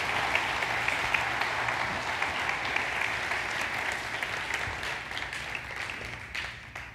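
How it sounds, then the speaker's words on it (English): Church audience applause for people on stage during a service, a full, steady round of clapping that gradually thins and fades toward the end. "let's give these guys just a round of applause"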